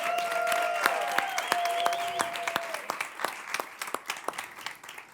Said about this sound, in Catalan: Així que un fort aplaudiment per molts anys, Càmeres i Acció.